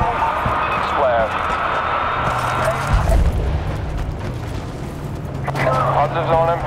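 Artillery strikes land in the Battlefield Bad Company 2 Panama Canal conquest map, a couple of low booming blasts over constant battle noise, with radio chatter and voices nearby.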